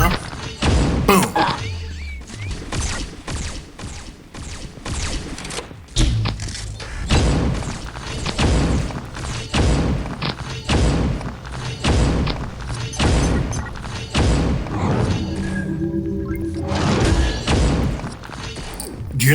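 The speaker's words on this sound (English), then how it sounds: "I feel like this weapon sounds like they're shooting rocks out of it" Crystal Division weapons firing in Pixel Gun 3D, a rapid series of heavy, rock-like thuds and cracks in dense bursts, loud and close, with a short pause before more volleys.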